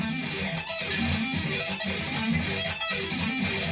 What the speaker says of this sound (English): the middle strings tend to sound a little muffled